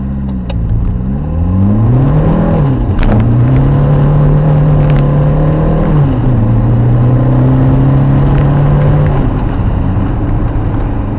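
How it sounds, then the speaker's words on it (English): A Peugeot 205 with a stage 1 tune accelerates hard from 0 to 60, the loud engine revving up through first and second with wheel spin, then pitch dropping at each gear change before climbing again. "Lots of wheel spin in first and second there."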